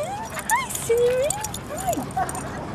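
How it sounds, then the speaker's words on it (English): A small dog at Castro Valley Dog Park gives a few high, wavering whines and yips, close by, amid people chatting. "What kind of little dog is this?"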